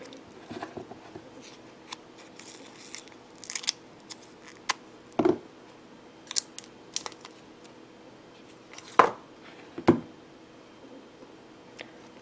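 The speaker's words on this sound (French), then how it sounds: "maintenant je vais prendre mes points de colle que je vais couper en deux" Scissors snip glue dots in half during a papercraft pocket-shaped box build, a few sharp isolated clicks spaced out over a quiet background, close to the listener.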